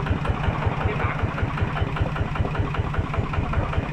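A Kubota RT140 Plus single-cylinder diesel engine runs steadily at idle, with a smooth, even knocking pulse repeating rapidly and continuously at close range and no talk over it.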